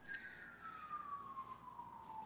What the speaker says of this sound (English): I wonder where the siren's going.